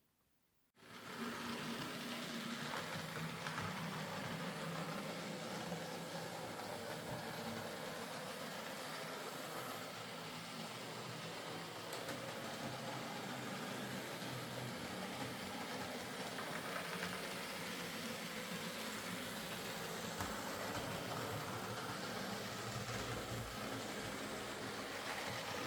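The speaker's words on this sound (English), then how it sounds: "Phil will get this Black 5, which seems to run okay" A model Black 5 steam locomotive runs on a layout with a faint, steady mechanical whirr and rail rumble that continues unbroken and unaccompanied throughout.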